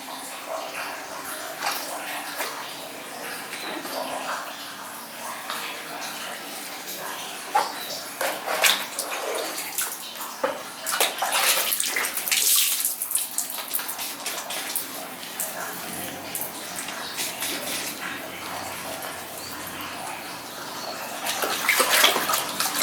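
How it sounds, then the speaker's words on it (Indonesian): Running water splashes steadily as a face is washed with soap, the broadband wash of tap water continuing for over twenty seconds with occasional louder splashes and rubbing, close and fairly even. "baru aku cuci muka menggunakan sabun"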